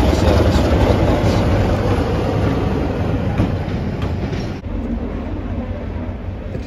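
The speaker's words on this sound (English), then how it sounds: "the Class 25 arrives for the service from Totnes" A Class 25 diesel locomotive rolls into a heritage railway station at dusk on a service from Totnes, with a loud, close, steady rumble and wheel clatter that eases slightly near the end.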